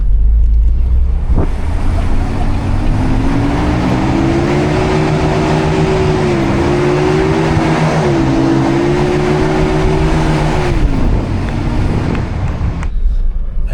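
A Mercedes W124 drives at speed through soft Sahara desert sand with tires not deflated; a loud, sustained engine drone rises and wavers over rushing wind and sand noise.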